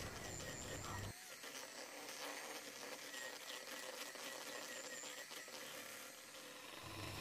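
An electric mixer beats cold butter and margarine for a layered cake batter, giving a faint, steady whirring hum that runs continuously, with a slight drop in tone as the speed changes.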